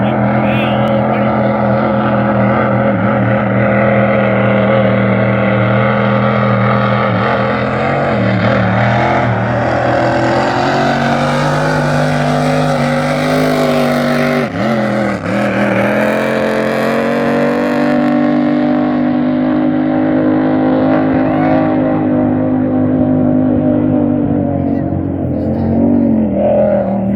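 Race cars sliding around a track during practice, engines droning steadily and loud with rising and falling pitch as they pass close by, under continuous talk.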